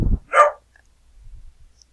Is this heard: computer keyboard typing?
no